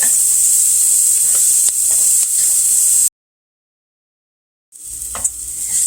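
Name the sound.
onions frying in a pot on medium-low heat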